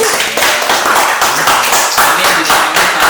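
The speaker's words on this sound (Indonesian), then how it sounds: "Jadi tepuk tangan dong untuk kita semua di sini." An audience claps steadily and densely at a talk-show taping, the applause filling the whole stretch with dense, continuous broadband patter at close range.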